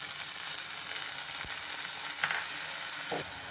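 Onions and tomatoes fry in hot oil with a steady, even sizzle. A couple of soft stirring scrapes break through the hiss.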